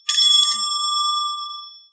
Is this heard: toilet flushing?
no